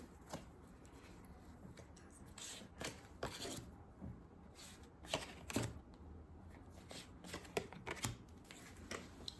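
Tarot cards are shuffled by hand close up, a run of crisp riffling and shuffling bursts with brief pauses between them and no talking.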